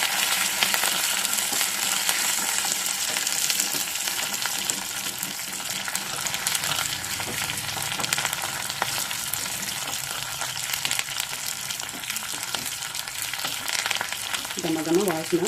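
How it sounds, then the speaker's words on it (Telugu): Curry leaves sizzle and crackle steadily in hot oil for a toor dal tomato curry, a constant close frying hiss throughout with a few faint stirring clinks near the end. "కొంచెం బాగా వేగించుకోండి."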